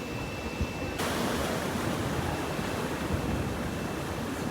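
Ocean surf at a St. Maarten beach, heard from a poolside spot: a steady, full wash of breaking waves with a windy hiss, continuous and fairly loud, no voices.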